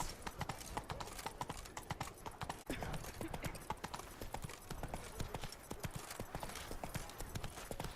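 Roach, Geralt's horse in The Witcher 3, clip-clops along at a steady run, the hoofbeats close and continuous over game ambience with a brief hitch partway through.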